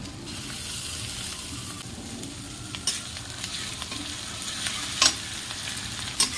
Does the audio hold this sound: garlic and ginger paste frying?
yes